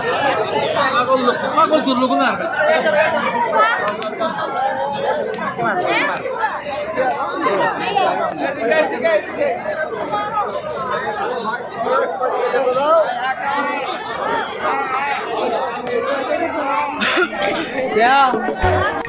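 A dense pilgrim crowd at Gangasagar Mela fills the air with loud, close overlapping chatter and calls, an unbroken babble of many voices with occasional coughs.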